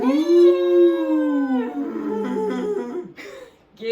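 A human voice imitates a cow's moo with one long, drawn-out, wavering low call, loud and close, fading into a softer trailing sound at the end.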